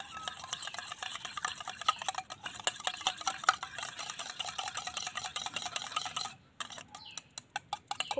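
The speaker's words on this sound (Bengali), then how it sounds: "দুধটা ঠান্ডা হতে হতে দইটা একটু ফেটিয়ে নেব।" A spoon whisks yogurt briskly in a bowl, making a steady run of quick scraping clinks and soft wet stirring at close range. The motion pauses briefly near the end before a few final taps.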